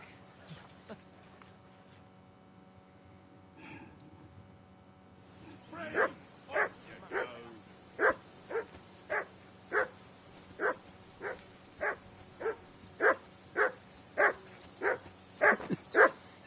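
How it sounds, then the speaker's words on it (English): A dog in a video game barks repeatedly, about fourteen sharp, evenly spaced barks close by after a few quiet seconds with a faint voice, the barking growing louder toward the end. "Whistle at that mutt of yours to stop barking!"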